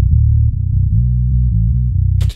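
A distorted metal bass guitar plays alone with its channel soloed, a loud, gritty low-end riff of short chugging notes, ending abruptly with a brief burst of noise.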